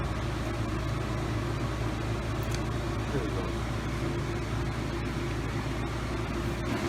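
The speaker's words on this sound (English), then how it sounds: "not everybody has one of these pumps, this vacuum pump" A vacuum pump hooked to home air-conditioning lines through a yellow hose drones steadily and loudly without a break, with someone speaking briefly over it.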